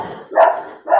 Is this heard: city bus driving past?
no